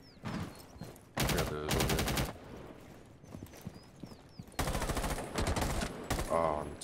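Rapid bursts of automatic gunfire crackle in the Rainbow Six video game, two long loud volleys separated by quieter stretches with scattered game sounds and faint voices.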